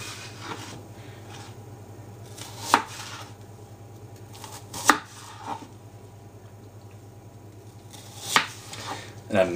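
A knife slices halved onions into very fine half rings on a board, a few distinct chopping knocks spaced out over soft rubbing and faint background noise, no talking.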